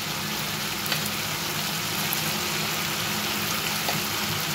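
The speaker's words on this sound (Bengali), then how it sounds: "এইবার আমি টক দই দিয়ে দেবো। এই দেখো টক দই দিয়ে দিচ্ছি।" Sour yogurt stirred into a sizzling katla fish curry in a pan of hot oil, a steady soft frying hiss with a few faint clinks, no voices.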